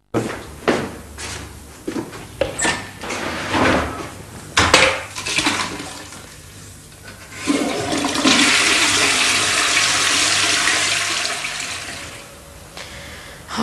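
A toilet flushes with a loud rushing swirl of water, close by, after a stretch of clattering dishes and cutlery clinks.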